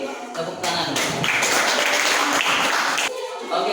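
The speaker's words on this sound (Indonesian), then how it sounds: "Kita kasih tepuk tangan." An audience claps after a group presentation, a moderate burst of applause that swells, holds steady, then drops briefly near the end before resuming, with some chatter underneath.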